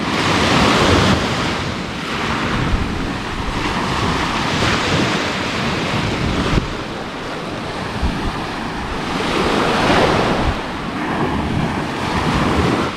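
Sea waves wash onto the shore at Al Bustan Beach in Muscat, Oman, a loud continuous surf roar swelling and easing in slow surges, heavily buffeted by wind against the microphone, with no talking.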